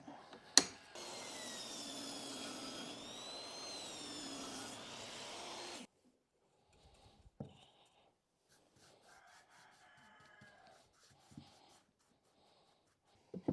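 A power saw rips a board down to about 3.5 inches for a planter with a loud, steady whine lasting several seconds before cutting off, followed by faint clatter and handling knocks.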